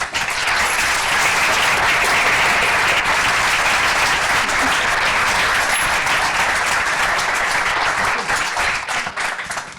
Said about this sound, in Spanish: Un aplauso para Rodrigo